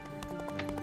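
Horse hooves clip-clop in a quick galloping rhythm in the video game Horse Eventing 3, a brief, fairly quiet run of evenly spaced thuds with faint background noise.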